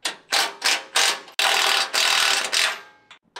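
A socket wrench ratchets as it tightens bolts on an underbody protection plate for a 2022+ Ford Ranger or Everest, with several quick, close clicking strokes and then a longer run of rapid ratcheting.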